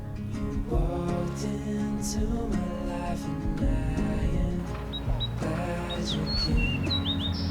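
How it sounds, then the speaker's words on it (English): Fox sparrows and white-crowned sparrows sing on a mountain hike in Glacier National Park, short bright chirped phrases repeating at a moderate distance over a steady outdoor background hum. "the song of both the fox and white-crowned sparrows was almost ubiquitous"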